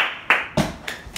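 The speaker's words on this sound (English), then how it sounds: "Applause." A few sharp hand claps, about four separate slaps spaced unevenly in a quiet indoor playroom, close and alone with no talk.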